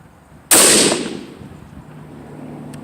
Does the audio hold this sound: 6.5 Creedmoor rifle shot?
yes